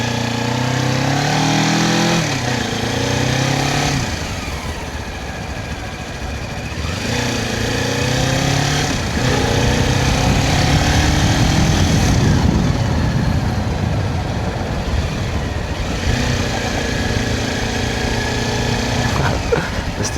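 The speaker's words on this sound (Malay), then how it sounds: "Mesti akak tu dah dengar dah bunyi motor aku dari jauh." A motorcycle engine runs steadily for a long stretch on a ride in Bintulu, its pitch rising and falling as it revs and shifts gears, loud and close, with no talking.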